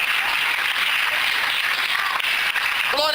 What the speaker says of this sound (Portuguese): Quantos podem aplaudir e exaltar ao Senhor nessa noite?